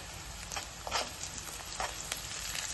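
Curry leaves dropped into hot oil for kanda pohe crackle and sizzle steadily in the pan, with a continuous frying hiss and scattered sharper pops throughout.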